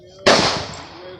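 A single 5.56 rifle shot fired at a 100-yard range, a sharp, loud close crack followed by a long, fading echo over about a second.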